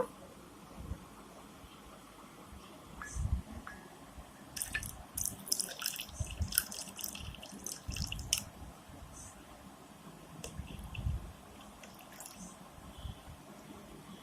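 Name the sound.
water poured into potato masala for fuchka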